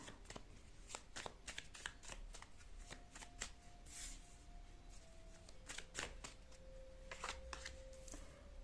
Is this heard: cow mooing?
no